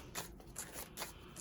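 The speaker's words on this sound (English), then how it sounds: "I just love how this deck shuffles." A tarot card deck being shuffled by hand gives soft, quick riffling rustles in a few short bursts, close and fairly quiet, with no talk over it.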